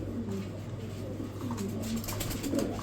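A pair of Toggy pigeons coo softly in low, repeated murmurs against a steady background hum, with no talking.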